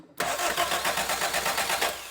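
Austin-Healey Bugeye Sprite starter motor cranking the engine with the key off, a steady rapid rhythmic churning that starts abruptly and runs for about two seconds without catching, close and loud.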